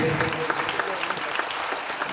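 Dense, loud applause from the audience at a band concert, many hands clapping together in a steady wash, with faint voices mixed in.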